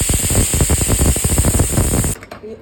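A pressure cooker on the stove releasing steam in a rapid, loud pulsing hiss of close, even bursts that stops abruptly near the end.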